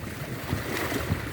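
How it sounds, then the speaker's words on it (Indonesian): Rough ocean waves surge and wash in a steady roar, with wind buffeting the microphone throughout. "Ombak semakin besar ya kawan-kawan, saudara-saudara sekalian"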